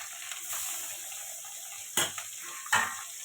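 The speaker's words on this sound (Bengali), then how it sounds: "তেলটা গরম হয়ে গেছে," Fish rubbed with salt, turmeric and chili powder fries in hot oil for a fish and potato curry, giving a steady, gentle sizzling hiss broken by two sharp utensil clanks against the pan.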